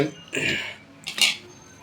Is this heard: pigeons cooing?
no